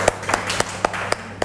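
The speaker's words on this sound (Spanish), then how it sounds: "Un aplauso." A small class of students claps in a classroom, about six separate, sharp hand claps spaced roughly a quarter second apart, fairly close and moderately loud with no talk over them.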